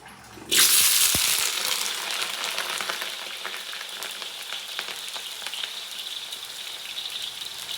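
Potato pieces frying in hot oil while cooking chicken adobo, a loud steady sizzle that bursts in as they hit the pan and then keeps crackling evenly, with no talk over it.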